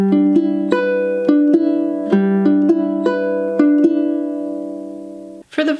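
A ukulele fingerpicks the pattern for a song at song tempo: clear, close plucked notes over a sustained chord in a steady rhythm, ending with a brief scrape.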